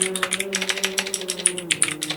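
Rapid, uneven clatter of typing on a computer keyboard, sharp keystrokes in quick bursts over a low steady background hum.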